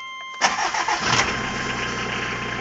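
An Isuzu C223 diesel swapped into a Chevrolet S-10 4x4 cold-starts on a new glow controller, cranking briefly, catching with a loud burst, then settling into a steady, rough diesel idle close by.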